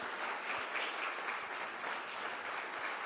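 A congregation claps during a church service, a dense steady wash of applause from many hands lasting a few seconds, even and fairly close, with no speech over it.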